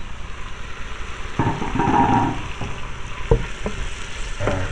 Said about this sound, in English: I'm gonna add the meat. So I'm gonna mark the meat, and that's very quickly.